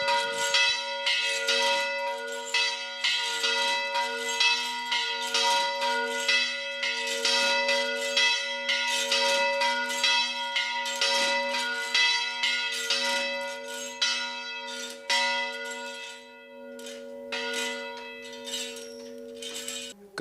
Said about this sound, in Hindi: अब आप देख रहे हैं घंटियाँ बजनी शुरू हो गई हैं।